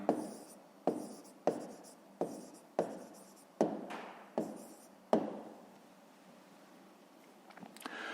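A pen scratches across a notebook in a quiet room as math homework is written out. About eight separate, crisp strokes come at a fairly even pace, followed by a softer, longer scribble and faint rustling.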